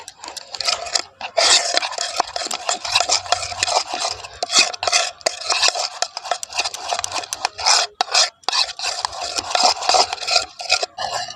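Liquid sindoor being mixed with rose water, a loud, close, continuous scraping and rasping of a spoon stirring against a container, steady with brief pauses, no voices.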